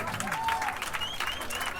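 A live folk-music audience applauds as the chitarra battente and mandolin player is introduced, a short burst of dense clapping with a little crowd noise and faint voices mixed in.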